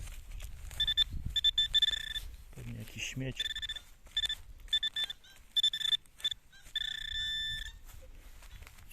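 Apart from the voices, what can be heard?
metal detector pinpointer beeping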